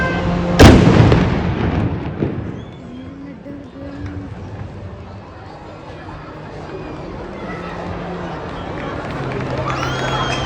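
The iftar cannon in Dubai fires one loud, sharp boom near the start. It rolls off into the murmur of a crowd, with people talking nearby afterward.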